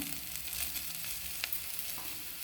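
Spice paste frying in a pan for an okra (bendekai) saaru: a steady, fairly soft crackling sizzle with a couple of light stirring clicks.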